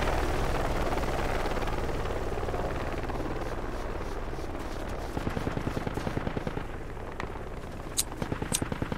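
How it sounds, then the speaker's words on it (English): Helicopter in the video game Project Reality, its rotor thumping steadily and close, with rapid bursts of machine-gun fire joining partway through and sharp separate shots near the end. "Can you see that chopper?"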